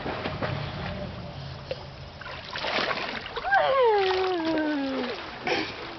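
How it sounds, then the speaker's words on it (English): Child swimming and splashing in water, with soft intermittent splashes and paddling beneath a voice that talks and then rises in a drawn-out exclamation. "Mackenzie, can you go over there and swim for a minute?"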